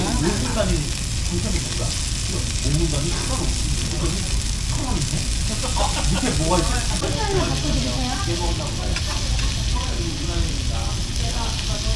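Makchang and daechang beef intestines grill in a pan at a Korean eatery, giving off a continuous, fairly loud sizzle and crackle while people talk nearby throughout.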